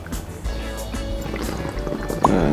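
Water bubbling through a bong percolator, a low gurgling churn with rapid bubbling that grows busier toward the end, against faint background noise.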